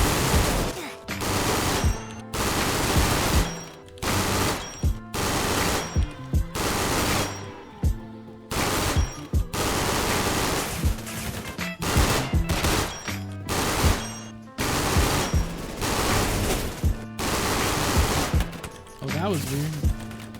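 Rapid, loud bursts of DMR rifle fire in a video game crack out in repeated volleys, each string of shots separated by short pauses and running over roughly twenty seconds.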